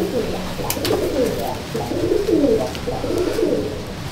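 A Madrasi Kalduma pigeon coos close by in a loft, several soft rolling coos following one another in a continuous, gently rising and falling stream.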